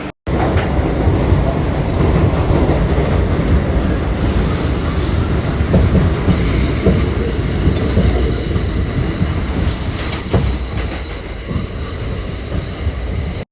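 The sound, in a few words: train arriving on the elevated track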